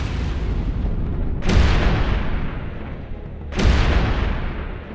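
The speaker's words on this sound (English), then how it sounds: "In a single launch, up to 12 rockets can be fired at once." Tornado-S rocket barrage launch, able to fire up to 12 rockets at once: two heavy, booming blasts about two seconds apart, each followed by a long roaring tail that slowly fades.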